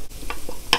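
Chopped tomatoes hitting a hot wok with garlic and green onion, a brief burst of frying hiss and stirring scrapes, close and short.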